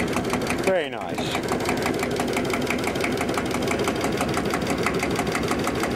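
Small diesel engine runs at a steady, even chug, close by and continuous, with a quick rising mechanical whir near the start and no talking.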